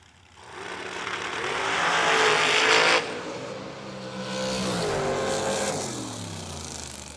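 Drag race cars, a 442 and a 463, launching side by side from the line at a Friday drag racing event, engines roaring loud and rising in pitch, then backing off briefly before revving up again.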